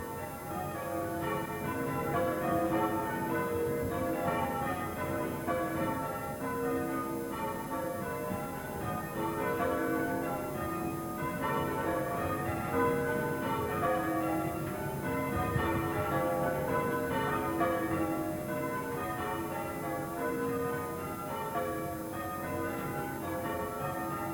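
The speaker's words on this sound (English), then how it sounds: "these bells rang out over the parish regularly, calling the faithful to prayer" The bells of Willesden Parish Church ring continuously in overlapping peals, a full steady ringing with no voices.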